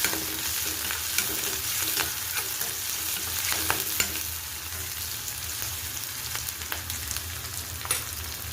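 Curry leaves frying in oil for tamarind rasam crackle with a continuous moderate sizzle while a spoon stirs with repeated light scrapes, no one talking.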